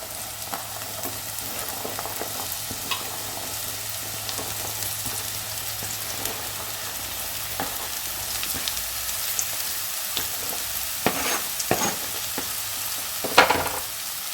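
Ridge gourd pieces frying in oil with garlic paste for a curry, a continuous sizzle under repeated stirring scrapes, with a few sharper spoon knocks toward the end.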